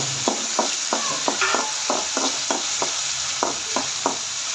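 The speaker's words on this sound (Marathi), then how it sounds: "तेलात कडक होईपर्यंत टाकून त्याला फ्राय करणार आहोत" Roasted peanuts frying in hot oil with onion, a continuous close sizzle punctuated by a steady series of rhythmic clinks and scrapes as they are stirred in the pan.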